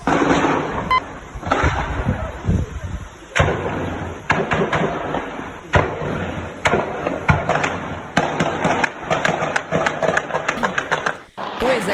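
Repeated sharp bangs of rifle and machine-gun fire crack out in irregular bursts during an overnight attack on banks in Botucatu, Brazil, some in quick succession, over a harsh, noisy background recorded on a distorted mobile phone.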